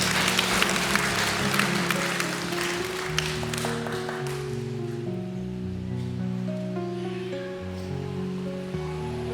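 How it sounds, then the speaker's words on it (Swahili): A church congregation at Mass claps loudly for a few seconds, then the applause thins and fades while sustained instrumental tones continue underneath. "Hebu tuwapigie makofi."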